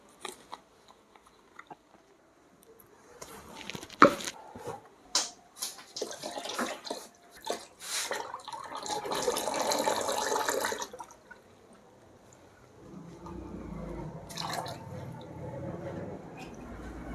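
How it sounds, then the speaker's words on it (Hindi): Premium China Flower perfume poured into a tub for dipping agarbatti incense sticks: scattered clinks and handling knocks, then a steady rushing pour lasting about three seconds, fading into a low rumble. "ओपन करेंगे और इसमें डोल के अंदर ये हमारा परफ्यूम डालेंगे"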